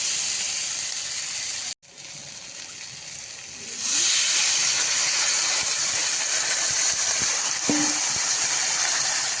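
Water poured into a pan of hot Bengali fish curry, raising a steady broadband hiss of steam that swells partway through and then holds, with faint kitchen clatter beneath.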